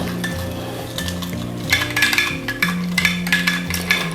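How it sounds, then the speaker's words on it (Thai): A spoon stirs about three tablespoons of water into a Thai chicken marinade to dissolve it, giving steady, repeated clinks and scrapes against the bowl over background music. "แล้วคนเลยค่ะให้ส่วนผสมละลาย"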